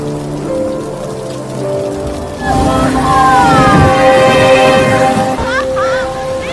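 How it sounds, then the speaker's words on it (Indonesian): Heavy rain pouring down in a steady, dense hiss that swells after a quieter start, mixed with sustained musical tones and a faint voice. "Saat itu, hujan turun dengan sangat deras."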